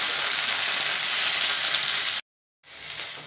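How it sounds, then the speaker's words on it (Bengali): Young vegetable stalks fry with potatoes in a pan in a loud, continuous close sizzle that cuts out briefly and then resumes, with no voices. "ডাটাগুলো আমার ভাজা হয়ে গেছে,"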